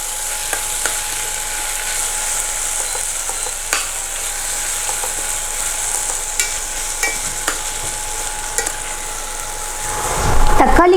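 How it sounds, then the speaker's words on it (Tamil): Tomatoes sautéing over a low flame in a pan for foxtail millet vegetable biryani give a steady, soft sizzling hiss with occasional stirring scrapes, and a louder clatter comes near the end. "லோ ஃப்ளேமில் வச்சு நல்லா வதக்குங்க."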